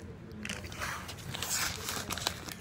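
Doritos tortilla chips being bitten and chewed up close, a steady run of crisp crunching and crackling bites over a couple of seconds.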